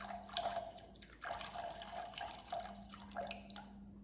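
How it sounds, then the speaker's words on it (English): Warm water runs from a tap into a sink, a soft uneven splashing and dripping stream, fairly quiet and close, with a low hum underneath. "So we want to add warm tap water."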